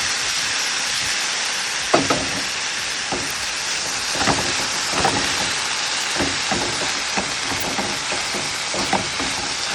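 Cooked green moong dal being stirred in a hot pan, a steady sizzling hiss broken by soft, irregular scraping knocks of the spoon, with no talk.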